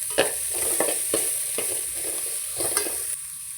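Onions sizzle steadily in oil in a pan while cooking palak pasta, and a spatula stirs them in quick, rhythmic scrapes over a constant high hiss.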